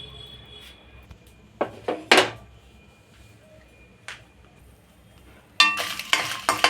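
Dried red chillies, garlic cloves and lumps of asafoetida are dry-roasted in a pan, with sporadic scrapes and rattles from stirring that end in a louder burst of tossing and scraping.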